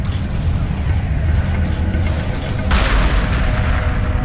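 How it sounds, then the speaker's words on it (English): Strike group ships taking enemy fire in the space strategy game Homeworld 2 Remastered, with a steady dense rumble of distant booming impacts and a sharper hit near the end, no talking. "Strike group under enemy attack."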